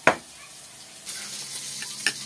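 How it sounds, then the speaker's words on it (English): A beef patty frying in a pan gives off a soft, steady sizzle, with a couple of brief utensil clicks near the start and the end. "While the patty is cooking"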